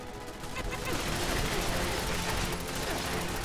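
Dense, continuous gunfire in Fallout 4, a steady barrage of rapid shots filling the whole stretch at a loud, even level with no pause.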